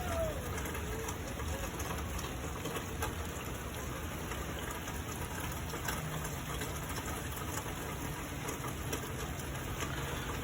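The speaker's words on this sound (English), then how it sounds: "It's raining, it's wet, it's wet." Steady rain falling outdoors makes a constant wet hiss, with pigeons or doves faintly cooing in the background.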